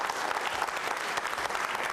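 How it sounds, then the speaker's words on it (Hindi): Strong applause from an audience at a quiz show, a dense continuous roar of clapping hands with no voices over it. "तालियां बजाइए जोरदार तरीके से के आसिफ साहब के लिए"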